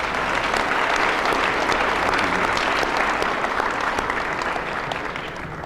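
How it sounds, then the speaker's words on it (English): An audience claps at a college gym grand opening, a steady, dense round of applause that holds evenly for several seconds and fades only slightly at the end. "Let's give them all a round of applause."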